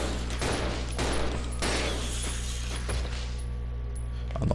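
Handgun shots in the Resident Evil 0 video game ring out as several loud, sharp blasts a second or so apart, each trailing into a reverberant decay, with no talking.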